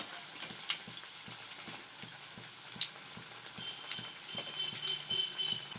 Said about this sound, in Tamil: இப்போ மறுபடியும் நம்ம இந்த பக்கம் திருப்பி போட்டுக்கலாம்